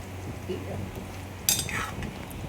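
A pot of fish curry being moved and stirred, with faint scraping and one sharp metallic clink of utensils against the vessel midway, quiet and close.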